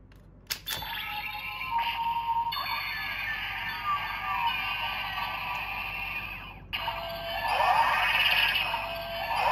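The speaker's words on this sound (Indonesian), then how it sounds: "ini suara standby dari pistolnya guys ya." A DX Guts Spark Lens toy gun from Ultraman Trigger plays its electronic standby sound: a steady, bright shimmering tone with sparkly chime-like flourishes that briefly cuts out and resumes, close and fairly quiet, with no talking.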